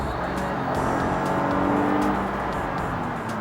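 Toyota Avalon 3.5-litre V6 with a 6-speed automatic accelerating hard, a steady loud engine drone with road and tire noise, heard from inside the car without pauses.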